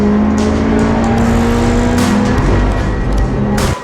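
A Subaru WRX STI Spec C, a rally-built track car, drives with a loud, continuous engine drone and rising revs, close and prominent.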